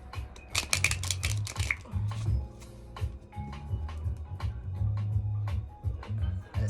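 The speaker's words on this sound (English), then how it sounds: "Let me actually try to shuffle this." A deck of tarot cards being shuffled up close, giving a steady run of crisp riffling and flicking clicks under a low background hum, with no talking.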